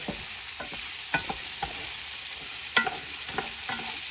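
Sausage and rice are stirred in a very hot pan, with a steady sizzle of frying underneath and scattered sharp scrapes and clinks of the utensil against the pan. The stirring is close and fairly loud, and nobody speaks.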